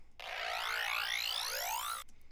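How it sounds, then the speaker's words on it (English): Serum bass preset Stealth from the Fendi Rogue bank, with its low end removed, gives a single sweeping accent whose bright tones glide and rise for about two seconds, alone and fairly quiet. "bass out of Fendi Rogue Serum Bank. The bass is called Stealth. It sounds like this."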